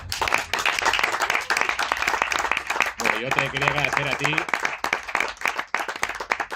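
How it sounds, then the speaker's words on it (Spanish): An audience at a film presentation at Sitges applauds loudly and continuously in dense, close clapping while someone speaks over it partway through. "sobre todo el fuerte aplauso que vamos a dedicar a Octavio López"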